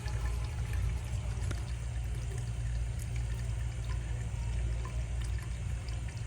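Water heater drain running with sediment at the base, a steady low rushing flow with faint trickling and no pauses.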